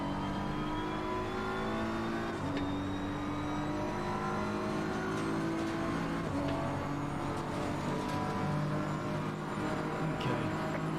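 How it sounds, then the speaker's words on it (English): A Jaguar race car engine in the racing game Assetto Corsa Competizione revs and whines continuously, the pitch climbing and dropping with gear changes as the car accelerates hard, with no voices. "Jag sounds nice when you drive it"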